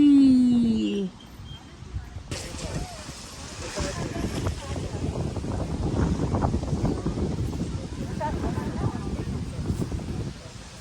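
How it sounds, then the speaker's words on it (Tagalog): Wind gusts buffet the microphone at a church camp with tents, a rough steady rushing that builds and persists after a brief high whistle-like tone at the start, with no clear talk over it. "Zion, it's windy"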